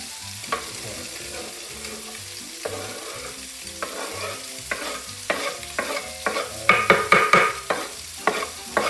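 Onions frying in leftover meatball fat, a steady sizzle under repeated scraping and stirring strokes that grow louder and busier toward the end, close up with no talking.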